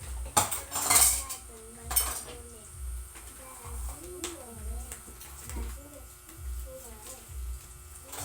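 Dishes and cutlery being washed: clinking spoons, forks and plates knock together in repeated clattering bursts, with a voice speaking and bird coos faintly in the background.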